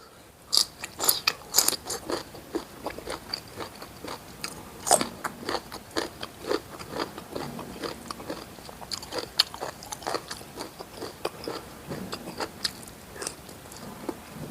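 Crunchy pork rinds being chewed up close, eaten alongside a spicy home-style Thai meal, produce a run of irregular crisp bites and crackling crunches with short pauses, with no talk.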